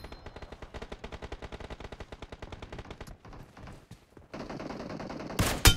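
Rapid automatic gunfire in the BGMI battle game rattles off as a long even burst of close shots, then pauses and gives way to scattered game sounds and a loud final blast.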